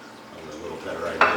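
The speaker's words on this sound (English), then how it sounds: "I'm going to dump some of this extra water out here so we can get our seeds." Extra water is poured out of a small seed container, a soft swishing pour building over a second before ending in a brief, louder splash close by.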